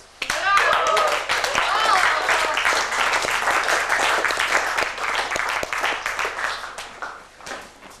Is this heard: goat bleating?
no